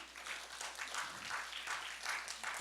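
Audience at a National Assembly forum on multi-child families applauding in thanks after a professor's keynote presentation, a soft, even patter of many hands in a hall, moderately quiet throughout.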